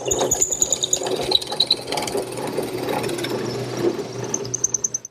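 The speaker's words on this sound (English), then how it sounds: "To complete the hole, I'm going to raise the table up, letting the bit slide through the part of the hole I've already drilled" A drill press bores through walnut, a steady motor hum with a grinding cut, near and moderately loud, with small rhythmic knocks toward the end.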